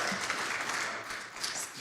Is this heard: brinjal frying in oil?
no